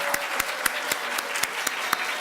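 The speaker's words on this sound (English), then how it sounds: "Let's give her a round of applause." An audience at a Black History Month celebration applauding an honoree, a steady wash of clapping with a few sharper periodic claps standing out near the front.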